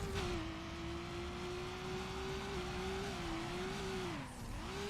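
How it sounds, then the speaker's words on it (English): Car sliding along a curb in Need for Speed Underground, a steady game engine drone with a sustained tonal whine that dips and bends, holding loud and even throughout with no talk. "Why am I sliding on the curb?"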